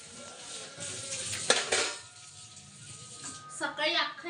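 A mother scrubs pots and utensils in a home kitchen, giving soft clinks and scraping in uneven bursts while people talk nearby.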